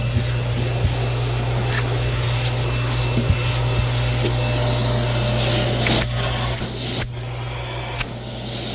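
A central vacuum system runs with a steady, loud motor hum and low drone throughout, with brief rustling and thumps toward the end.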